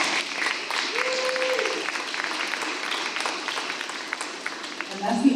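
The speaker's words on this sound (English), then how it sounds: "So please give them a round of applause." Applause from an audience at a high school Cardinal Awards ceremony, a steady broadband wash of clapping lasting the whole stretch at moderate level, with faint voices mixed underneath.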